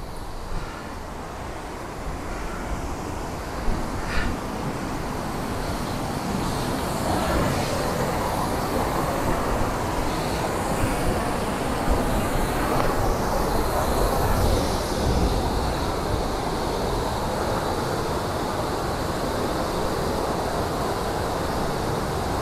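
Steady, dense roar of Bow Glacier Falls at the base of the waterfall below the glacier in Banff National Park, Canadian Rockies, a continuous loud rush of falling water with no talk.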